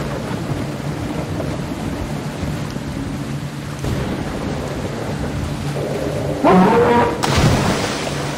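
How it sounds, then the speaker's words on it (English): Rain and thunder in the underwater horror video game Solitude Underwater, with steady rainfall hiss and low rumbling throughout and a louder burst near the end. "It's raining too? On top of everything, it's raining?"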